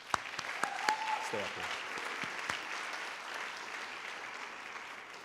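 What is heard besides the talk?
applause for students at recognition ceremony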